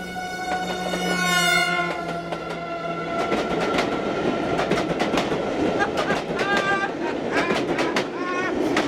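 A passing train rumbles and clatters close by while a sustained horn tone slides down in pitch as it goes past, followed by continued clickety-clack and brief squealing tones.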